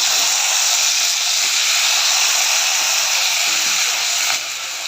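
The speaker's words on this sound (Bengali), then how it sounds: "কড়াইতে সামান্য একটু তেল দিব, দিয়ে প্রথম বেগুনগুলো দিব" Eggplant pieces frying in a little oil in a hot wok, a steady loud broadband sizzle that holds evenly throughout and drops slightly near the end.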